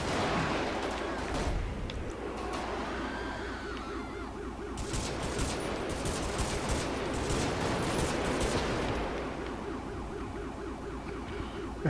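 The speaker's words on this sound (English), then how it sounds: "Yep, shots fired! Shots fired!" Gunfire crackles throughout a police patrol video game scene, dense, rapid shots in bursts layered over a wailing siren and busy background noise, loud and continuous for the whole stretch.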